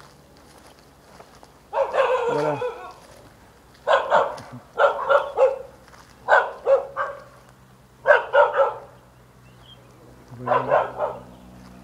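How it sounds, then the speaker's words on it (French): Guard dogs at warehouses by the Port-Est harbour in Réunion bark sharply in repeated bursts, several barks per burst with pauses between, at moderate distance, with a brief spoken word near the end. "les entrepôts sont gardés par des chiens et ça aboie sec."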